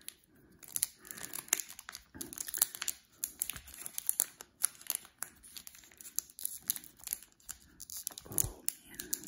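Pokémon Celebrations card packs are torn open by hand with dense, irregular crinkling and ripping of foil wrappers, many close, quick bursts running without pause and no talking.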